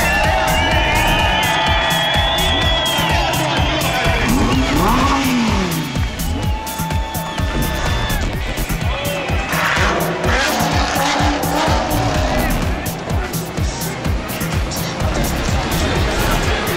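Supercars on a long road rally from Copenhagen to Monaco pull away with loud engine revs and squealing tires, close and continuous over a cheering crowd and voices.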